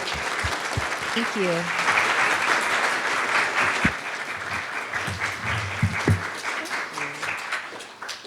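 An audience at a talk applauds steadily and warmly for several seconds. A few spoken words and voices can be heard over the clapping.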